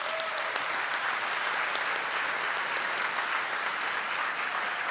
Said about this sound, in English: please, everyone, give him a round of applause